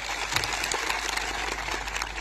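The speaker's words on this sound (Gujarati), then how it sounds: "આજે આ મંચ પરથી એમના માટે જોરદાર તાળીઓ પાડી લો" Dense, steady applause from a large crowd at an outdoor political rally in Gujarat, sustained and loud throughout without a break.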